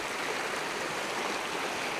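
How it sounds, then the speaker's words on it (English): A brook running high after heavy rain in a park, a steady broadband rush of flowing water that stays close and even throughout with no voices. "look at the water in the brook"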